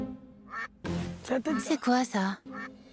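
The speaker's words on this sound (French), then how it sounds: "C'est le putain de canard." A duck quacks in short bursts amid loud, excited French conversation, the nasal calls cutting in between and over the voices from fairly close by.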